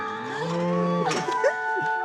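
A cow moos loudly and close on a farm, one long drawn-out low call that rises and bends in pitch, followed by a shorter second bellow, with no talk over it.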